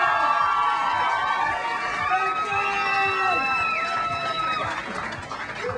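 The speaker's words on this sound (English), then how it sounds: "give them another round of applause" A television studio audience cheers and claps for a rock band, with high shouts and whistles riding over a steady wash of crowd noise before it starts to fade.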